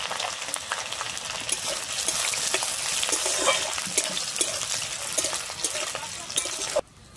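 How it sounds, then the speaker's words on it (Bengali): Chopped onion and slit green chilies frying in hot oil for a village-style chikni saag dish, a steady close sizzle with crackling pops that runs unbroken and cuts off abruptly at the end. "আমি এরপরে এখানে দিয়ে দিচ্ছি চেরা কাঁচা লঙ্কাটা"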